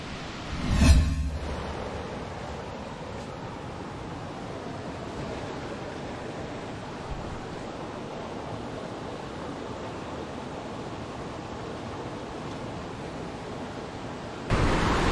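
Steady broadband rush of a waterfall, heard from its top, constant and fairly loud, with a brief thump near the start and a louder swell at the very end.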